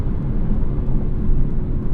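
A Lexus LC 500 convertible's engine drones steadily while driving, a loud, continuous low rumble with road and wind noise, no voices over it.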